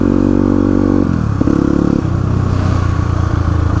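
A 32-year-old motorcycle on a mountain road in Mustang gives a loud, close engine drone whose pitch drops and shifts as the rider changes gear, with some mechanical clatter underneath.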